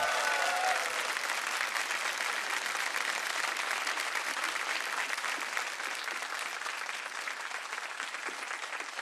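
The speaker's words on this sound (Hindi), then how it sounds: "तालियां बज जाए इनके लिए।" A studio audience on the Kaun Banega Crorepati game show claps for a contestant, a dense, loud, sustained round of applause that holds steady throughout and fades only slightly at the end.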